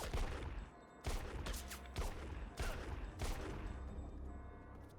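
Gunfire in the PC shooter Project I.G.I., with repeated bursts of shots at a steady rhythm and loud sharp volleys roughly every second over a continuous backdrop of game noise.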